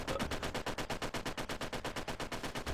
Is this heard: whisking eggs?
no